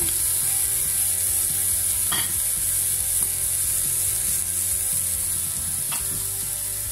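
Shrimp browning in a hot pan, a continuous loud sizzle and fry with a couple of faint scrape or stir clicks, no talking.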